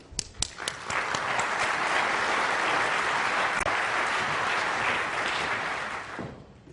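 Loud, sustained applause from a conference audience at a plenary lecture, building quickly after a few early claps, holding steady, then fading out.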